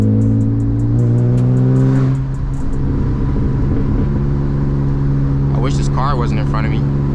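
A manual BMW E36 driven hard on hill roads, its engine loud and close, revving steadily with rising and falling pitch through gear changes, then pulling again, with a brief whoop of voice near the end.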